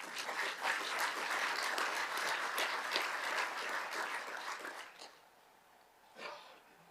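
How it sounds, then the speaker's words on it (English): Heads of mission at a government conference applaud themselves, a sustained round of clapping that fades out after about five seconds, followed by a brief soft stir of noise. "It is not upon you to give yourself a round of applause, but today I want you to do that."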